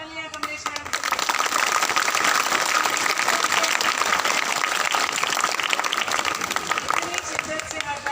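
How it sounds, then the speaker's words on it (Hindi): Students and staff at a school celebration before Independence Day give a teacher loud, continuous applause, a thick wash of clapping that starts after a brief pause and holds steady, close and full, until the end. "पहले तो बेटा जोरदार तालियां"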